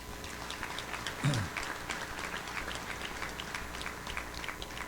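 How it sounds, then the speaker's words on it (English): An audience at a 2016 American Legion fall conference general session gives a round of applause, a moderate, even spread of many hands clapping with a brief low thump partway through. "Let's give the post and the team a round of applause"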